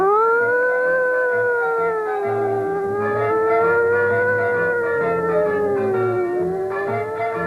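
Several children's voices wail together in a long, wavering rising-and-falling howl, imitating sirens, sustained without a break.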